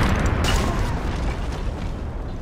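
A bomb detonates in a Rockstar video game, a loud, dense burst of rumbling noise that starts at full force and holds steady for a couple of seconds.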